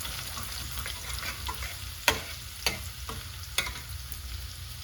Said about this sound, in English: as you can see, it's sizzling away nicely